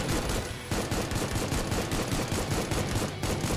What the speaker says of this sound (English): This time I can actually fire back.